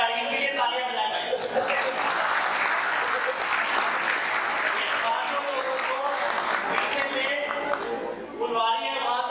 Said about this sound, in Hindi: इनके लिए तालियां बजाएं भाई